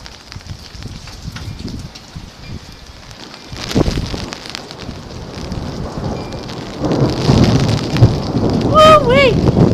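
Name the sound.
thunderstorm with thunder and heavy rain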